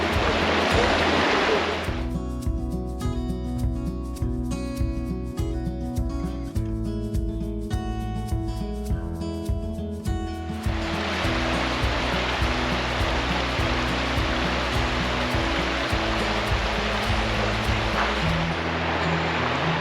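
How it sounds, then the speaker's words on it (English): Fast-running river water in the Zion Narrows of Zion National Park, a steady loud rushing roar, with a brief stretch in the middle where tonal background sound shows through. "You can see how fast that water is running"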